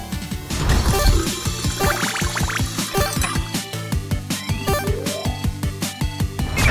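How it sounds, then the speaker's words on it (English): Cartoon water running from an opened faucet, a lively burbling pour with rhythmic dripping and bubbly splashes against light music, steady and fairly loud. "Open the faucet."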